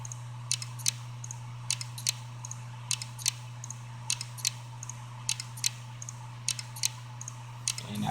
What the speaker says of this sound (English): the clicking sound. It's an old system using old drives